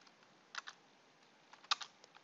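Username and password entered on a computer keyboard as a few faint, sparse key taps spread over a quiet hiss.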